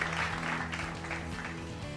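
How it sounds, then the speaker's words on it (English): A hall audience at a women's achievement award ceremony gives a round of applause welcoming an honoree, a faint, steady wash of clapping heard from a distance. "Can we have a big round of applause, ladies and gentlemen, to welcome her"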